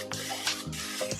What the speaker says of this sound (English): It's Perfect Release baking spray.